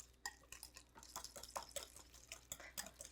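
Pumpkin pie spice is stirred into ricotta filling in a bowl, giving a run of close scraping, clinking strokes from a spoon against the dish, fairly quiet and steady with no talk.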